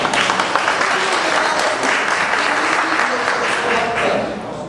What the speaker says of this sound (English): ask you all to join me in a round of applause for Queen Fess herself